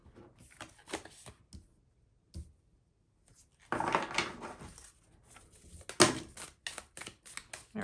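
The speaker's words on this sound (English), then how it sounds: "Let me shuffle one more time" Tarot cards shuffled by hand: bursts of riffling and flicking card noise come in short irregular runs separated by near silence, close and crisp, with one longer dense shuffle in the middle.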